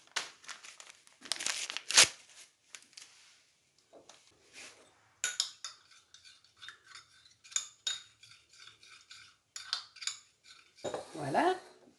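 Small sachets crinkle and tear, then a spoon clinks and scrapes against a glass in quick, light taps, quiet and close with no talking.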